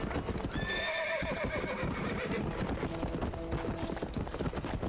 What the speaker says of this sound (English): si pulsamos la tecla viene el caballo